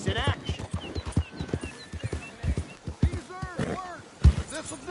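Horse hooves clip-clopping in a PS4 video game, a quick uneven run of hoofbeats with a whinny and other game sounds mixed in, close and fairly loud.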